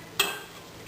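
A single brief clunk and splash as sausage is dropped into a pot of soup with potatoes and onions, followed by a short fading sizzle-like hiss.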